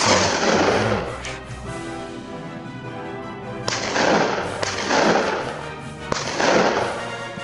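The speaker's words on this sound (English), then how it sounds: "A gunshot echoed through the valley, but the boar kept running." Gunshots ring out during a wild boar hunt in a valley: two or three sharp, loud cracks spaced a few seconds apart, each with a rolling tail, over a steady musical backing.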